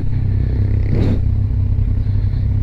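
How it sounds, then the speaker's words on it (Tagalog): A Kawasaki Z1000 motorcycle on a ride produces a loud, steady engine drone throughout, with a brief scraping, clattering burst in the middle. "I-enjoy po ang motor na walang angkas."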